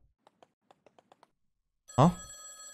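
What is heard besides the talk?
telephone ringing in a video game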